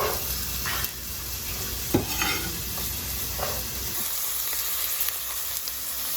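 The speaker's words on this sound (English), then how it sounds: "So what I'm gonna do first is throw in the onions and the garlic and the bay leaf." Onions, garlic and a bay leaf sizzle in a frying pan, a continuous close hiss and crackle with occasional stirring scrapes and clinks, no voices.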